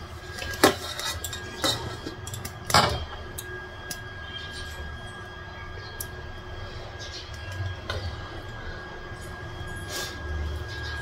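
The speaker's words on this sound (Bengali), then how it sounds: "পাম্প চালিয়েছি, ওই জন্য আওয়াজ হচ্ছে" A household water pump runs in a home kitchen, giving a steady low hum with a faint whine above it, while dishes and cutlery clink sharply now and then in the foreground.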